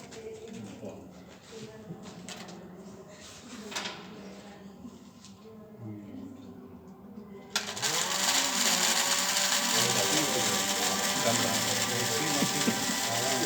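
A homemade mixer driven by a DC motor grinding rice starts up partway through with a loud, steady whirring grind. Before that, quieter mechanical clicks and a voice can be heard.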